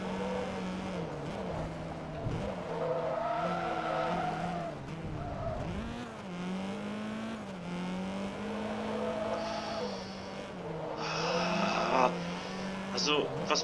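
Tires of a drift car skid and squeal continuously in the racing game Forza Motorsport 2, sliding over a droning engine with rising and falling pitch, loud and close, with no talking.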